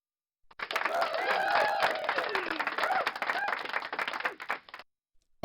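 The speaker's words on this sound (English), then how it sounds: "I would like to give you a round of applause" A crowd claps and cheers in a round of applause, loud and sustained for about four seconds before tapering off into a few scattered claps and silence.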